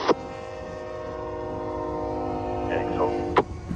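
A Union Pacific freight train horn sounds in a long, steady chord over the low rumble of a passing manifest train, with a few sharp squeals near the end.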